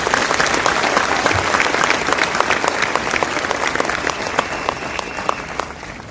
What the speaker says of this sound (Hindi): ऐसे हमारे ग्रेट साइंटिस्ट के लिए जोरदार ताली होनी चाहिए